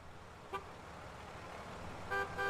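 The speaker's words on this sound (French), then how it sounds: "Bruit de klaxon" Three short car horn toots, one early and two close together near the end, over a steady hum of traffic.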